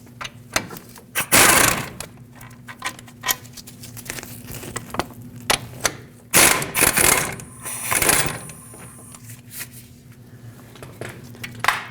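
Wrench or ratchet work loosening the two 21mm caliper bolts from the steering knuckle behind the front wheel of a 2009-2010 Dodge Ram, heard as scattered clanks, ratchet clicks and broad bursts of metallic effort, close and loud with pauses between.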